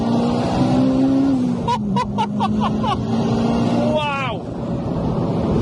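A turbocharged Honda Civic Type R (EP3), about 380 bhp front-wheel drive, drones loudly and builds as it accelerates hard from 3,000 rpm, with a person exclaiming briefly over it.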